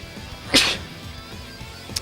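A single sharp, loud sneeze bursts out midway, close to the microphone, then fades into quiet background noise.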